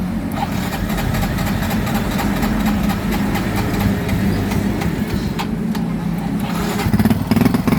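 A Yamaha Mio i 125 scooter with a hard-starting, smoky engine runs steadily after starting, a loud, rough, continuous idle drone close by that rises slightly toward the end, with no talk.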